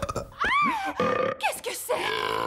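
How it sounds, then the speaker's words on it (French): A cartoon burping box lets out a loud, warbling belch that rises and falls in pitch, followed by a couple of shorter gurgling burps, with no talk over it. "Il semblerait que ce soit une boîte à rots, votre majesté."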